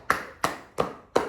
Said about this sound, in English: palms of your hand to clap with the sole of your feet